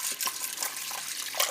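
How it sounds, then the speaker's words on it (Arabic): Water pours steadily into a cooking pot of fava bean bessara, a short close splashing stream with small gurgling bursts. "غادي نضيف الماء القدر الكافي"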